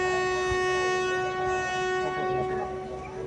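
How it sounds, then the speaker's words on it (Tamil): A train sounds a long, steady horn blast as it pulls away from Pamban station, loud and close, with rail rumble underneath. "So horn அடிச்சுட்டாங்க."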